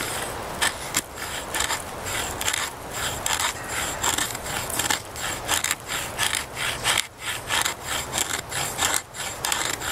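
Spine of a Spyderco bushcraft knife scraping wood shavings at a base camp: repeated rasping strokes in an uneven rhythm, close and fairly quiet, with no talking.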